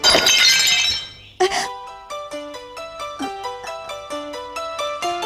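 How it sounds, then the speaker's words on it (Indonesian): A ceramic pot shatters loudly at the start, a burst of breaking and scattered fragments, followed by a brief second crash and then a series of ringing plucked musical notes. "Iya, ayah tahu pot itu pecah, tapi kenapa? Namanya juga keramik ya, ya bisa pecah."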